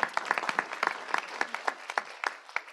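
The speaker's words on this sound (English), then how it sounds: "Ooh, we have a clap." Audience clapping at a child protection funding session, a small scattered group of distinct hand claps with uneven rhythm, fairly close and lasting a few seconds.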